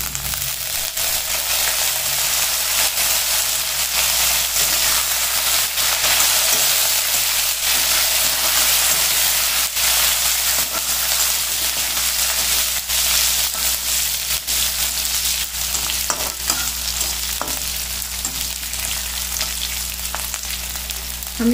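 Curry leaves fry in hot oil with a close, steady, continuous sizzle that holds evenly throughout, with no talking.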